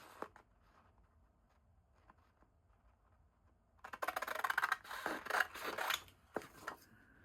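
Scissors cut paper side flaps for a Valentine envelope folio: after a quiet stretch of faint ticks, a burst of close, crisp snipping and rustling runs for about three seconds, then a couple of separate cuts follow.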